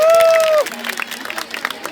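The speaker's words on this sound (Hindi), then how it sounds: "मेयर साहब के लिए तालियां बजाइए जोरदार" At a devotional bhajan evening in Pune, a crowd claps for the arriving mayor: a held musical tone cuts off and loose, scattered hand claps follow, moderately loud and uneven.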